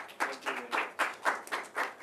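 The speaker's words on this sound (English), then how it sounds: "Can we give him a big clap, please?" Conference audience clapping for a speaker welcomed to the podium at the 2016 IC3 Conference: quiet, steady bursts of hand claps, fairly even in rhythm, with no talking.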